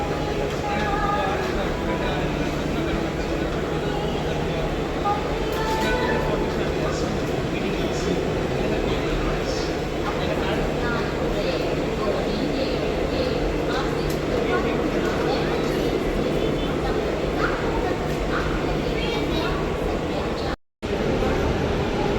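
WAP-7 electric locomotive hauling the Jaipur–Coimbatore AC Special arriving at Kacheguda station platform, a sustained low rumble and rolling clatter of coaches with a steady hum, with a brief dropout near the end and someone talking over it.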